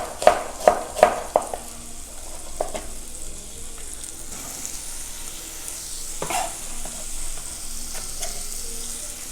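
Onion and vegetables sauté in a pan with a soft continuous sizzle, opening with a few sharp knocks of a utensil and then steady stirring.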